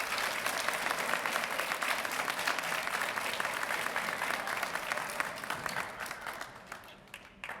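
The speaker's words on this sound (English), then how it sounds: "Let's give them a nice round of applause." A room full of people at a news conference gives a round of applause, dense steady clapping heard from nearby that holds for several seconds and then thins and fades toward the end, with no voices over it.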